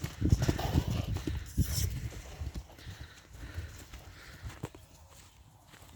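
A stallion's hooves clop along at a walking pace, close by, with scattered thumps and a few faint voices in the background.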